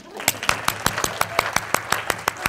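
Audience applause at a talk, heard as a quick, even run of sharp claps at a steady rhythm that carries on throughout, fairly close and clear with no talk over it.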